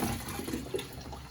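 Photographic fixer being poured back into a fixer container, a steady wash of liquid running and splashing throughout, fairly close and moderately loud, with no talking.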